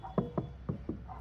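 Knuckles knock on a water tank to judge how full it is: four or five hollow thuds in an uneven rhythm, moderately close, alone apart from faint room noise.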